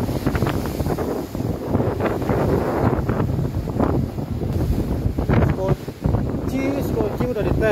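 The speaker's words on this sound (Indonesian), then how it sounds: "Anginnya kenceng banget, anginnya." Strong wind buffeting across a ship's deck during a weekly lifeboat equipment check, a loud continuous roar of gusts hammering the microphone, with a voice speaking under the noise.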